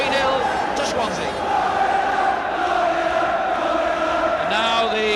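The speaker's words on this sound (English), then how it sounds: "the Swansea crowd begin to sing "We're going up,"" A Swansea football crowd in 1981 singing a chant together, a massed tuneful drone of many voices in a stadium, steady and moderately distant, with occasional louder swells.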